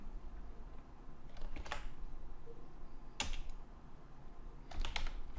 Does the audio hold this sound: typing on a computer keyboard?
yes